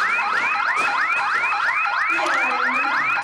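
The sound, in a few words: house alarm going off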